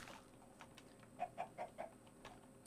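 Minecraft chickens cluck in the game, four short evenly spaced clucks in quick succession, soft and alone over faint background.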